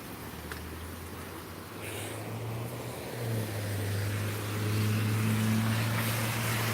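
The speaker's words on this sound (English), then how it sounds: "People are still driving in these conditions." A car drives along a road during Hurricane Florence, its engine and tyre rumble rising steadily as it nears under a wash of wind and rain noise, fairly distant and without talk.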